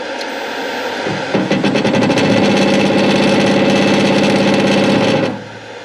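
A Hare and Forbes PHM-560MK2 power hammer motor ramps up from a low idle hum to full speed within about a second, then holds a loud, steady, buzzing mechanical drone with rapid rhythmic pulsing before winding down near the end.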